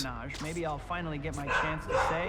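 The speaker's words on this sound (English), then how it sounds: "That's a dog." A dog in the Spider-Man 3 PS2 video game barks in a few short, yappy bursts, close and clear, mixed in with a character's speech.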